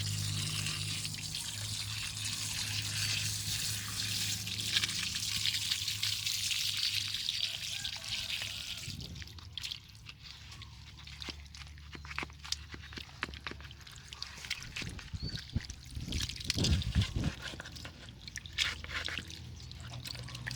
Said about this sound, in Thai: ใช้น้ำฉีดนะครับ เพื่อเอาหัวบัวขึ้นมานะครับ